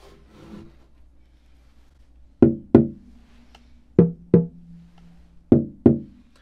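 The back of a Bolivian rosewood guitar is tapped by hand in three pairs of sharp knocks, each followed by a resonant, ringing low tone that decays slowly, close and alone in a quiet room.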